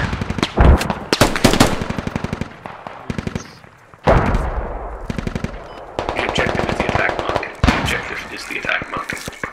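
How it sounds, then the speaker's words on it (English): Rapid automatic gunfire in a video game, bursts of machine-gun fire and single shots cracking loudly and repeatedly through the whole stretch, with short gaps between volleys. "I saw someone shooting at us from that compound."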